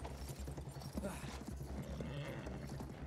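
Horse hooves clip-clopping in the Battlefield 1 video game, quick and rhythmic at a moderate distance, mixed with faint background game noise.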